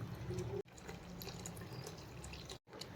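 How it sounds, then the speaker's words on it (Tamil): Coconut milk being poured into a pot of cooked garlic rice porridge, a faint, brief liquid pour heard close up with short gaps and no talking. "இப்போ வந்து நம்ம தேங்காய் பால் ஊற்றிக்கலாம்."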